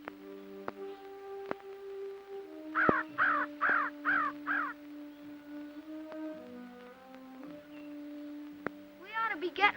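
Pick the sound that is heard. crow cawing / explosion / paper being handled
crow cawing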